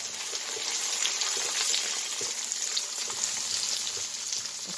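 Onions fry in a hot pan and are tossed around: a dense, even sizzle that stays loud and close throughout, with faint shuffling of the food and no speech.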